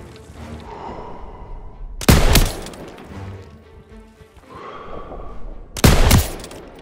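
Machine gun fire in the Call of Duty WW2 video game: two short, loud, dense bursts a few seconds apart, each rising sharply out of a low, rumbling battlefield background.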